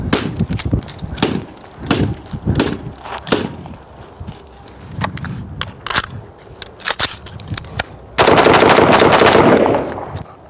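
A BCM RECCE-14 carbine fires a string of sharp, loud rounds at an irregular pace, close by, mixed with clattering and handling noise, ending in a dense burst of rapid fire.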